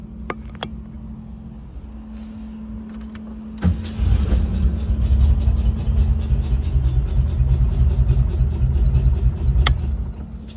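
A VW Beetle engine idles with a steady low rumble beneath clicks and a jangle of keys, then grows louder and rougher after a clunk, up close.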